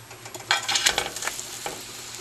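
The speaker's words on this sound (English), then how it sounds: "now let's put our breaded with former crouton fillets into the pan" Breaded tilapia fillets coated in crushed croutons hit a hot frying pan, setting off a loud burst of sizzling that swells and then settles into steady crackling.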